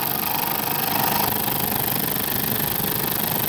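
A scroll saw cuts the bottom of a pine board flat with a steady, loud, buzzing chatter from its rapidly reciprocating blade, continuous and close throughout with no voices.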